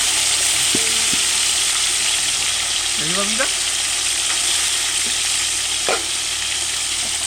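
Pieces of Katla fish fry in a pan in a village kitchen, a loud dense sizzle running throughout, with a few brief voice-like sounds faint in the background.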